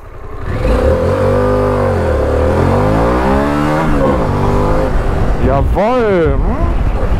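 A Harley-Davidson Pan America 1250 motorcycle of about 150 horsepower accelerates hard, its loud engine note climbing and falling through the gears close by, with a voice exclaiming near the end.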